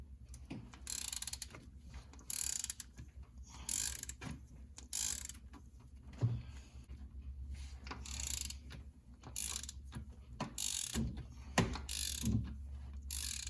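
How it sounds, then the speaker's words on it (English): A hand ratchet clicks rapidly in bursts as cylinder head bolts come out of a 2007–2013 Chevrolet Silverado engine during AFM lifter replacement, close and crisp, repeated runs of pawl ticking with brief pauses and the odd knock of metal. "so now I can start taking my head bolts out"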